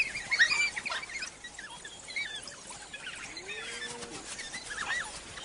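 African wild dogs give faint, scattered bird-like chirps and twittering squeaks, a few high calls and a gliding whine heard from a distance over quiet outdoor background.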